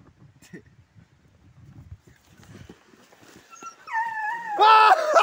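A hunting hound whimpers inside a cave: scattered faint knocks and shuffles give way to rising, drawn-out whines that grow loud and insistent near the end.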